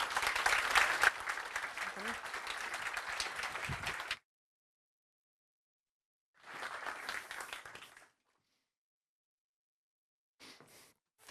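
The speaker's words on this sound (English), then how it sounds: "Let's give them a warm applause." Loud, dense audience applause at the 2024 NATO Youth Summit in Stockholm for about four seconds, then silence, followed by a second shorter burst of clapping and a brief final flutter.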